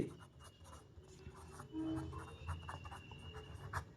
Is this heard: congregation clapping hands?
no